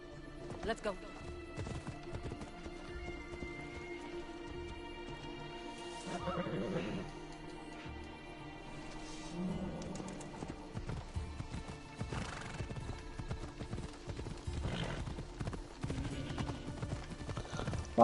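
In Assassin's Creed Odyssey, a horse gallops with steady clip-clop hoofbeats and neighs a few times, set against a low game soundscape.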